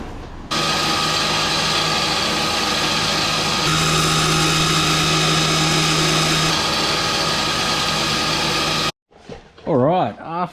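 A power tool cutting a metal quarter panel plate on a GQ Patrol, a loud, continuous whining grind held steady for several seconds, then stopping, followed by a short burst of talk.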